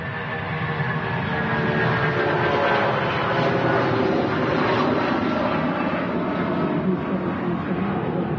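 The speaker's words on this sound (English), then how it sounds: "Rolls-Royce RB211 engines screaming out of Manchester." A Jet2 Boeing 757-200 with Rolls-Royce RB211 engines takes off from Manchester Airport, a loud, steady, broadband jet roar sustained throughout without talk.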